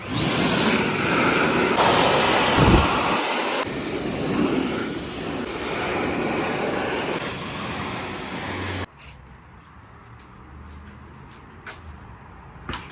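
An air compressor blows water off a Sur-Ron X electric dirt bike after washing, a loud steady roaring hiss for about nine seconds that then cuts off, leaving quiet background with a few faint clicks.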